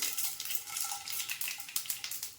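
Mustard seeds sputter in hot sesame oil in a pan, a quiet, steady crackle of small pops running through the whole moment with no talk.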